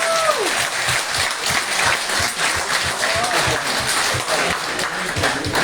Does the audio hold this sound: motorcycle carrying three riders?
no